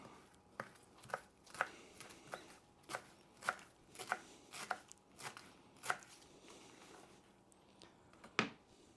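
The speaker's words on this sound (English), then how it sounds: "Cilantro is another one I struggle chopping up." A knife chops cilantro rhythmically on a cutting board, a couple dozen quick, crisp taps with short pauses, close and fairly quiet.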